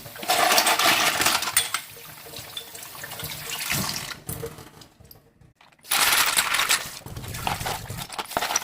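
Seashells and clam shells being washed under running water, with clattering shell-on-shell knocks and a steady tap stream, a brief quiet gap, then splashing and rinsing resumes loudly and close.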